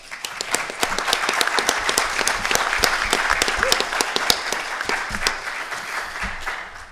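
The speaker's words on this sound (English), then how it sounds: "Let's give them a round of applause." A conference audience claps steadily for several seconds, many individual sharp claps blending into a full, even round of applause heard from within the room.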